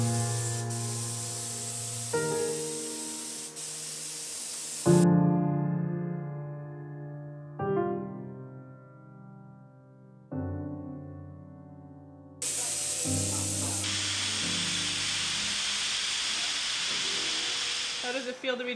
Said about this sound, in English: so we could have a continual stream of paint being sprayed